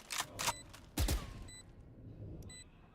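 Gunshots in a Valorant esports match: a few sharp cracks early, then a heavy close shot near the middle, followed by a quieter tail with faint beeps.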